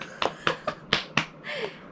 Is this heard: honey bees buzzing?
no